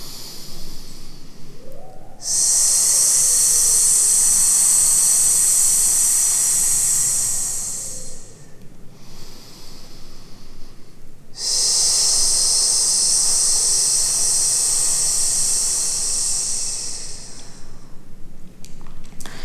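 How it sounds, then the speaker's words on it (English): A long, loud hissing exhale, a yoga breath sizzled out through the teeth, comes twice, each lasting several seconds with a quiet pause between. "Or what I use more is I kind of sizzle the breath out."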